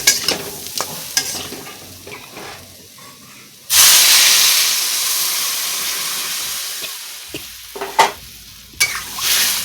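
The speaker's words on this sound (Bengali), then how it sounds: "তো এখন আমি জল দিয়ে দেবো।" Water hits hot spice paste for a rohu fish and yam curry with a sudden loud sizzling hiss that slowly fades, framed by clinks and scrapes of a spoon against the pan.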